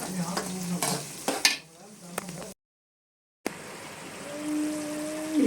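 Tomato pickle being stirred in a pan, with scraping and sizzling in short bursts, broken by a brief silent gap before a steady sizzle and a tonal hum resume.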